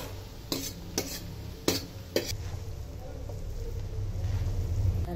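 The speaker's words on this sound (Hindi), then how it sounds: "अब इसमें हम ये चावल मिक्स" Rice mixed into a carrot masala in a cooking pot, with four sharp spoon knocks against the pot early on, then a soft, steady stirring rustle over a low background hum, close up, without speech.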